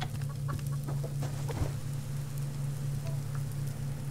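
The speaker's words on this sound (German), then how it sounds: "Oh, das Huhn lebt noch." A chicken clucks softly in the Subsistence survival video game, a few faint calls over a constant low hum and a light rain-like hiss.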